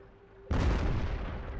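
A tank cannon fires a HEAT round in the World of Tanks video game, one sudden loud boom that cuts in after a brief quiet hum and rumbles on with a long, heavy decay.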